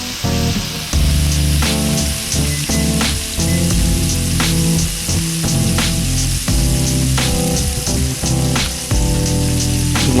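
Ribeye steaks laid into a hot pan give a loud, steady sizzle that carries through the whole stretch, crackling with bursts of spitting fat and with no voices over it.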